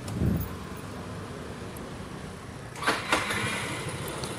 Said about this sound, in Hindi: ये स्कूटर में सेल्फ लेने पर जो साउंड आ रहा है चलिए मैं आपको सुना दूँ